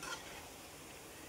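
Vadas bubble and sizzle in hot oil, a soft, steady crackling hiss that stays even and fairly quiet throughout, with no voices.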